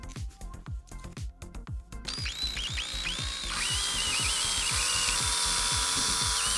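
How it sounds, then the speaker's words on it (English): A power drill whirs through plastic bottle caps, starting with short pulsed bursts and then running steadily at high speed, close and moderately loud with no talking. "With a drill bit the same size as the straws to make the holes through the bottle caps."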